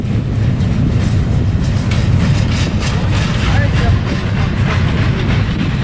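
A double-stack container freight train rolls past close by, a steady loud rumble with rail clatter and wheel noise that fills the whole stretch and never lets up.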